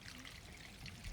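Gray water from an RV holding tank drains through a hose with a soft, continuous trickling pour, faint and steady and with no talking.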